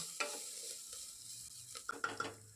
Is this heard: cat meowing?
no